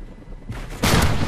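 An L115 sniper rifle fires a single loud, broadband shot in Call of Duty: Ghosts on the Departed map, a sudden blast following a quieter rushing lead-in, with no talk.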